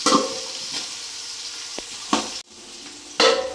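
Onions frying in ghee, a steady near sizzle running throughout, with a few louder stirring scrapes and one brief dip before the sizzle resumes.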